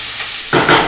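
Chopped celery and onion hit a hot pan, and a sudden loud sizzle bursts up halfway through after a quieter stretch.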